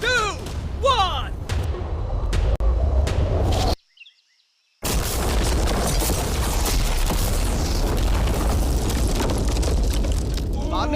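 A blast set off against an explosion-proof car: a brief dropout, then a sudden dense roar of broadband noise that holds loud for several seconds, following earlier voices and a countdown.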